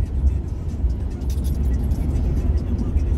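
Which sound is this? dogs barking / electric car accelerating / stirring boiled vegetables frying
electric car accelerating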